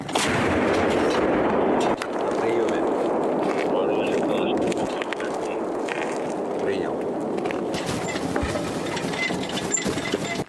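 A heavy Ukrainian army artillery gun fires in the Serebryanskyi forest, a boom followed by a long rolling rumble and outdoor noise, with voices talking over it.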